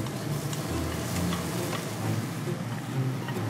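An egg fries in a pan with maggots and rice wine, giving a dense, continuous close sizzle with faint stirring scrapes and no talk.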